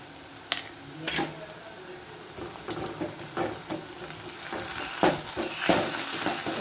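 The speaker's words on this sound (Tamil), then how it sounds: "நல்லா வெங்காயம் வதங்கட்டும்" Onions frying in a pan for a drumstick-flower poriyal, with a continuous sizzle broken by repeated spatula scrapes and stirring knocks, close up and without speech.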